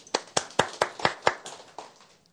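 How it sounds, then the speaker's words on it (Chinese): An audience at a humorous workplace-skills talk gives a short round of rhythmic clapping, about eight distinct claps at an even pace that thin out and fade within a couple of seconds. "我们给他点掌声"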